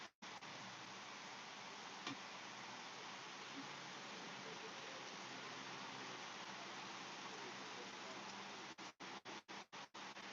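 Steady rain falls outside as a constant soft hiss that fills the whole stretch, fairly faint and even, with a brief stutter of dropouts near the end.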